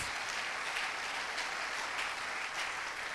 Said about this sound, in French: Clap on Lord Jesus.